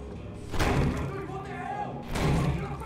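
Two heavy door slams or thuds in a 2023 horror film land about a second and a half apart, loud and close, over a rumbling background with voices underneath.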